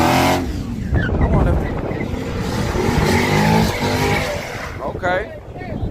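A sixth-generation Camaro at a street race, its engine rumbling and revving loudly amid crowd noise, with people talking nearby throughout.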